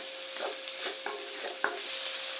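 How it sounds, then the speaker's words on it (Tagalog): Shredded chicken breast goes into a pan of frying ginger, setting off a soft steady sizzle with a few light stirring knocks at a close, quiet level and no talking. "Add na natin yung chicken."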